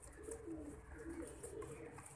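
Soft, low cooing of pigeons repeats close by, a gentle murmuring against a faint background of other sounds.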